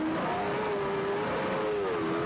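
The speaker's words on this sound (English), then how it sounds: "Listen to him screaming that engine through the hairpin there" A sidecar racing machine at the 2005 World Sidecar Championship at the Salzburgring screams through a hairpin, its high engine whine wavering in pitch as the revs rise and fall, steady and moderately distant.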